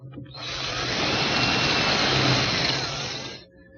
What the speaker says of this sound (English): I'll drill a hole about 3/4 of an inch deep